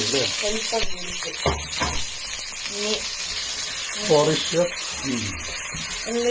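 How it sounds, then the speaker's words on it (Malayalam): Onions fry in a pan for homemade fried rice, a steady close sizzle with occasional stirring clatter, heard under ongoing conversation. "ഉള്ളി ഇടാൻ പോവുകയാണ്"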